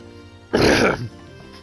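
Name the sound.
throat clearing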